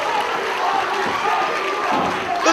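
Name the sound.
wrestling crowd cheering on their feet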